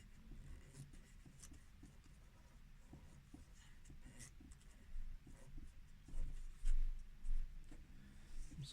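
Paper rubbing against the audio control head of a JVC HR3660EK VCR during a cleaning, heard as soft scratchy strokes that grow louder and bunch into short bursts toward the end, with no talking.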